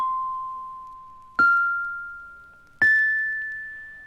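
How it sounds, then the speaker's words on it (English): Three clear chime tones ring one after another, each a step higher in pitch than the last, every note struck sharply and left to fade slowly and alone. "Now I'm going to ring the chimes"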